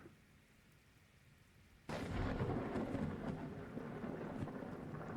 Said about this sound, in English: I love the thunder when it lights up the sky.